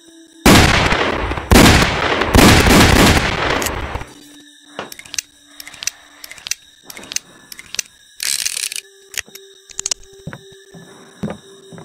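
Gunfire in the Roblox game Wild West, heard as a loud dense burst of clattering shots near the start, then scattered sharp clicks and mechanical rattles with lighter game effects, no talk.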